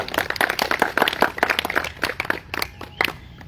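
Scattered hand clapping from a modest crowd at a school graduation ceremony, a brisk burst of applause that thins out toward the end.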